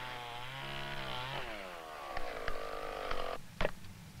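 A chainsaw from a 1977 Maine homesteading scene whines and bogs as its pitch drops and rises under load, followed by sharp knocks and snaps of wood, heard moderately close with no talk.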